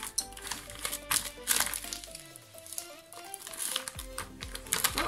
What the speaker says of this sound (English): And then we peel the transfer tape off.